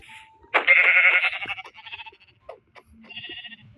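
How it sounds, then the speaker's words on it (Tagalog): A sheep in a video game lets out one loud, wavering bleat, followed by fainter scattered game sounds. "Sheep!"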